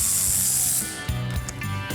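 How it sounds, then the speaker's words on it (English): A socket ratchet clicks while the five axle nuts are taken off a 'Cuda convertible through the single large access hole, rapid pawl clicking close by and alone, with a few heavier clunks near the end. "that's where you run your socket through to take the 5 nuts off that hold the axle in place"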